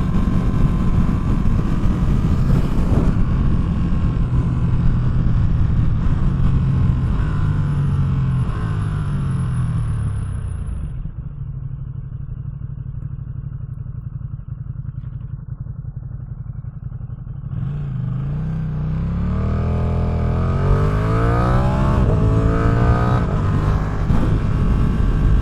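A motorcycle, either a Ducati Streetfighter V2 or a Triumph Street Triple RS, accelerates hard on the highway, loud rising engine through gear changes, easing to a steady drone midway before revving up strongly again.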